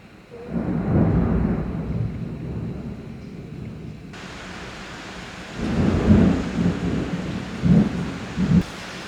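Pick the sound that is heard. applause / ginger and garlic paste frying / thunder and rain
thunder and rain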